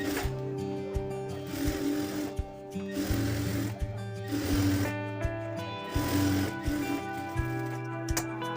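A sewing machine stitches a cloth cross belt, its motor whirring in bursts that start and stop, loud and close, with no talk.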